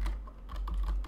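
Computer keyboard keys tapped in quick irregular succession, several close clicks of arrow keys pressed while playing A Way Out, with no talk.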